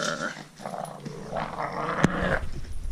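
A growing puppy growls in short, rough bursts with a sharp yip-like spike partway through, close and fairly loud.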